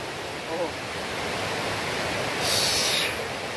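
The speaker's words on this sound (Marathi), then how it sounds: "धबधब्याचा आवाज येतोय" The Navlai waterfall, out of sight some way off, gives a steady broadband roar and hiss that fills the whole stretch without breaks, with a brief brighter wash near the end.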